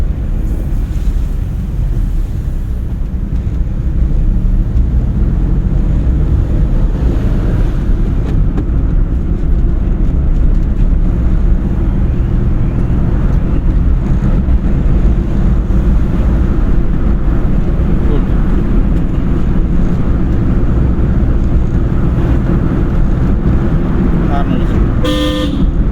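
A car driving steadily in second gear during a driving lesson, giving a constant loud low engine and road rumble with wind noise throughout, a voice speaking over it and a brief horn-like sound near the end.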